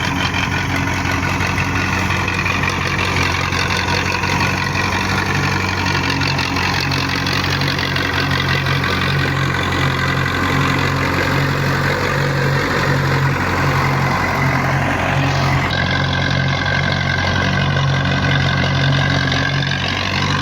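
A 1997 Belarus MTZ 50 tractor pulls an 8-foot laser land leveler bucket as it fills with soil. Its engine holds a loud, steady droning hum with no break, and nobody speaks.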